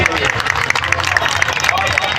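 Crowd clapping at an outdoor local gathering for kanwar pilgrims' service, rhythmic and fairly close, mixed with crowd chatter and background voices.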